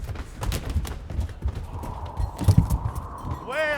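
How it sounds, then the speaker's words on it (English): Horse hooves clip-clop on a stage as a rider arrives on horseback in a classic play performance, a steady trotting rhythm near and loud, ending in a rising whinny. "No man at door to hold my stirrup nor to take my horse?"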